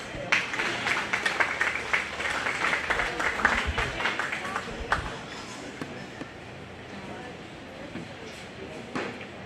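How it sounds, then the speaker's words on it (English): A county fair goat show crowd breaks into applause for the young exhibitors, a burst of clapping that fades after several seconds into a quieter hall with a speaker's voice over it. "let's give those kids a round of applause"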